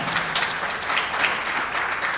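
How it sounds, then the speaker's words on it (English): An audience at a political summit applauds a congressional candidate running in Florida, producing a dense, even roar of many hands clapping throughout, loud and continuous with no talk over it. "give him a round of applause"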